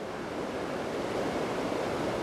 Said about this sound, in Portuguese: Olhem o vento que está aí.